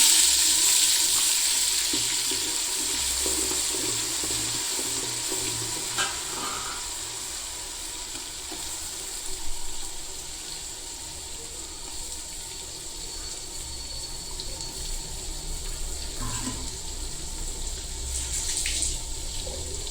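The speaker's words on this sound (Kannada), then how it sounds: "ಆಯಿಲಲ್ಲೇ ಚೆನ್ನಾಗಿ ಫ್ರೈ ಆಗಲಿ" Onion and chilli paste fries in hot oil with a continuous steady sizzle, close and fairly loud, with occasional light stirring scrapes.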